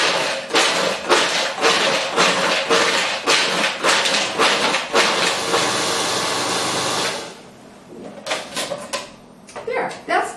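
A food processor pulses almonds into a fine powder, giving a rapid series of loud, close, choppy bursts, then one sustained run before more short pulses follow.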